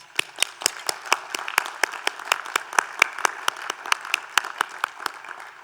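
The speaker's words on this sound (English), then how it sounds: "Can we all give a round of applause for these outstanding graduates?" Applause for graduates at a university commencement ceremony: a thin smattering of hands with distinct, rhythmic individual claps ringing out close by, suggesting a small gathering, steady throughout.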